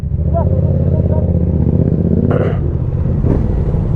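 A Yamaha R7 motorcycle engine runs steadily right after starting in neutral, giving a close, continuous low rumble with a couple of brief clanks partway through.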